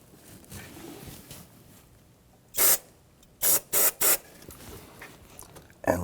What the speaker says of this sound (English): I'm going to spray it right in the port here.